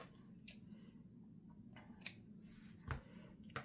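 Scissors snip the excess strings on a handmade craft tag, giving about five short, crisp cuts at uneven intervals, close up and fairly quiet over a low background hum.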